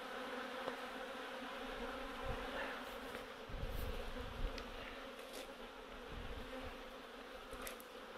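Honeybees flying around hives at an apiary on a warm day, a dense continuous buzzing drone from many insects, steady and fairly faint, with occasional closer passes rising briefly above the hum.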